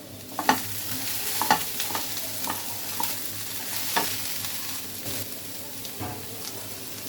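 Thickly cut onions are added to potatoes frying in a pan, producing a soft steady sizzle punctuated by several sharp clacks of a spoon stirring against the pan, close up with no voices.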